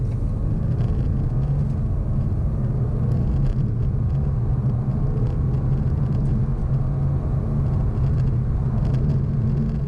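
A 2017 BMW 420d Gran Coupe's 2-litre diesel accelerates hard from 30 to 70, a steady loud low engine drone and road rumble heard from inside the cabin.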